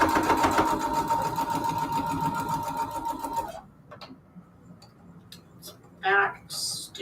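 A sewing machine back stitches fabric for foundation paper piecing, running at a steady, rapid whirring clip for about three and a half seconds before stopping, followed by quieter handling sounds.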